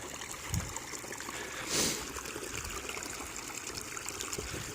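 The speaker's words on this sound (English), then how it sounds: "But as you can see, the water started." Water flowing through a pondless backyard waterfall just after the pump is switched on, a steady broadband trickling wash with a brief louder gush partway through, fairly close and without talk.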